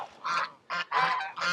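Geese honking on a small farm in wet, rainy weather, a series of loud, harsh calls in several bursts close by with brief pauses between them.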